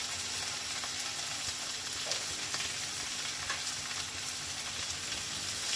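Ginger-garlic paste frying in a pan for a Bengali mung dal with rohu fish head, giving a steady, close sizzle with light scraping and stirring ticks throughout, no voices.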